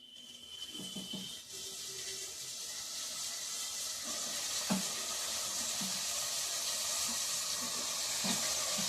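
Dry fish and brinjal curry sizzles steadily in a pan, a continuous frying hiss with occasional soft clinks and scrapes from stirring.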